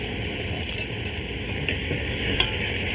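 Meat and carrots fry in a pot for a Bolognese-style sauce while being stirred, a steady close sizzle with a few soft scraping strokes of a utensil and no talk.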